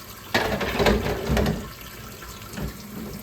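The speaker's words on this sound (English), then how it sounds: "put a little bit more water in here" Water splashes steadily into a pot from a running tap, a close, continuous rush with uneven surges and no talking.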